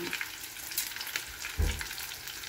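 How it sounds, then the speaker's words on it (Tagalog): Eggplant frying in a pan gives a steady, soft sizzle throughout, with a brief dull thump about two-thirds of the way in. "At ituloy lang natin ang ating pagprito."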